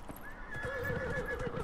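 Horse in the Dragon Age: Inquisition video game gives a drawn-out whinny over steady clip-clopping hooves, moderately loud with no talk.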